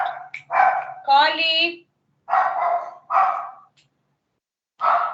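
A small pet dog yips and barks in short, sharp bursts close by indoors, mixed with a person speaking Portuguese in the gaps between barks.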